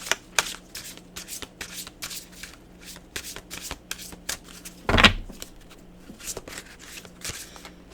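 A deck of cards being shuffled by hand, with repeated riffling bursts through the clip and one louder, sharper flurry midway; close and clear with no talking.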